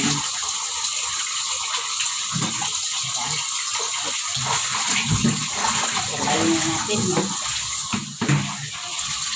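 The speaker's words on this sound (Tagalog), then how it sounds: "Ganyan ako pa naghuhugas ng plato." Tap water runs steadily while dishes and plates are washed at a sink, a loud continuous gush with occasional clatters, and someone speaks briefly over it.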